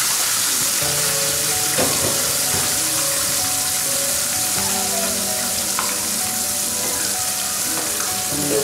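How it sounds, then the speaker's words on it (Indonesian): Three slices of meat fry in hot oil, a loud steady close sizzle lasting throughout, with crackling pops and faint clinks of utensils and no talking. "menggoreng 3 slice daging."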